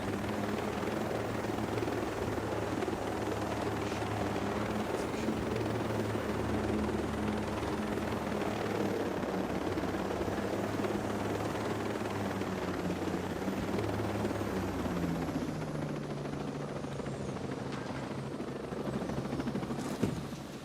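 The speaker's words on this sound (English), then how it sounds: "I'll land the helicopter" A helicopter flies steadily in the video game Ghost Recon Breakpoint, its rotor drone and engine whine holding loud and continuous for about twenty seconds with no voices over it.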